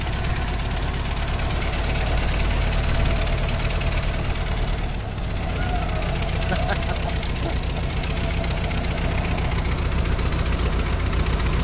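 A Ford Model T engine runs loud and steady while the car is driven, with a continuous rough mechanical chug and rattle that stays close and constant for the whole stretch.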